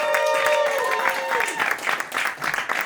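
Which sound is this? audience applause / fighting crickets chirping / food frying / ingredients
audience applause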